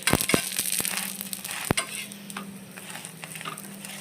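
Dhapate flatbread crackles as it fries in oil on a pan over low heat, a steady sizzle broken by several sharp scraping clicks from a spatula early on.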